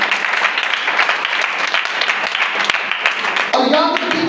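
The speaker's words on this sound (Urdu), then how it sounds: "اس کے لیے زوردار تالیاں دیں" A church congregation applauds loudly, dense continuous clapping from many hands that fills the room, with voices rising over the end of the applause.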